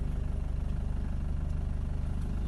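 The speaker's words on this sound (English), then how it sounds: "It is a diesel, so it's kind of tractor-like" A 1992 Land Rover Defender 90 pickup with its 200Tdi diesel engine idling, a steady low, rhythmic tractor-like chug that stays even and close throughout.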